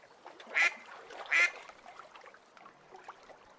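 Two loud duck quacks a moment apart near the start, followed by quieter rustling and faint background sound with no speech.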